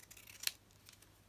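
Scissors trim an old photograph with a short, faint snip up close, one main cut followed by a lighter slice, in a quiet room.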